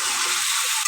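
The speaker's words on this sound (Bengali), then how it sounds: "আর আমি এতে 1 টুকরো আদা দিয়ে দিলাম। এটা ভালো করে আমি একটু কষাবো।" Ginger being sautéed in a pan, giving a steady hissing sizzle of frying with faint stirring scrapes, close and constant over a brief moment.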